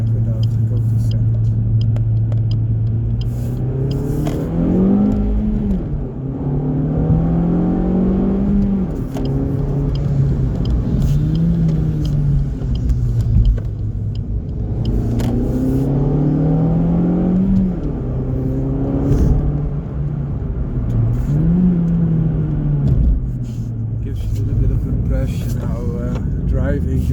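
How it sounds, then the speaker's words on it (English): A small hatchback's engine revs through acceleration while driving, its drone climbing in pitch, dropping at shifts and climbing again in repeated sweeps, loud and close from inside the cabin. "I'll wait for this corner, then I will rev it out and go to second."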